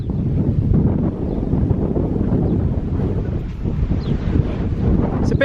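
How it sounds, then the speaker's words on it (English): Steady wind buffeting the microphone, a loud low rumble that roars continuously throughout with slight surges. "It's a bit windy."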